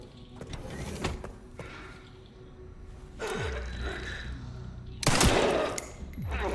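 Gunfire in the survival horror game Resident Evil Requiem as zombies are shot, several sharp bursts spaced over a few seconds with the loudest near the end, against a low game background without talk.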